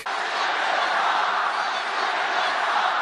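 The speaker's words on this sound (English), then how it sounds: "a crowd chants that you suck" A large crowd chants in unison, a dense, loud roar of many voices sustained evenly throughout with no pauses.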